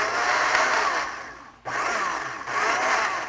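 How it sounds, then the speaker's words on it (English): A blender whirs steadily as it liquefies bonytail fish skin in water, running loud for over a second, briefly cutting off, then starting again for two more bursts. "Add the fish skin. And liquefied in a blender."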